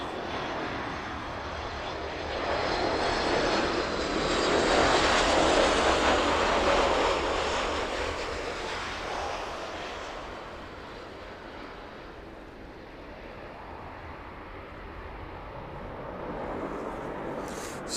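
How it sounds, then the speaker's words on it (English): A fixed-wing passenger jet touches down on the runway at East Midlands Airport with a loud, broad engine roar that swells over several seconds, eases into a long rumbling fade and rises slightly again near the end. No voices. "Safely touching down then into East Midlands"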